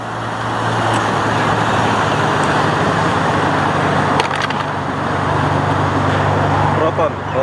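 A car drives past on a road in an evening neighborhood of Taman Melati, Malaysia, a steady close traffic roar lasting several seconds while people talk nearby.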